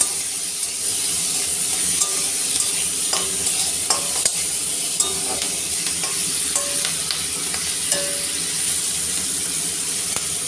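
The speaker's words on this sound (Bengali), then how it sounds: "পেঁয়াজ কলি দিয়ে ভালো করে নেড়ে ছেড়ে দেব" Potatoes and onion greens sizzle loudly in a hot pan, with a spatula stirring and tapping at irregular moments over the steady frying hiss.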